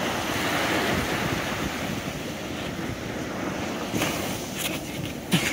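Ocean surf rolls onto a Maldives beach in a continuous broad wash, with steady wind buffeting the microphone and a few brief bumps, no voices.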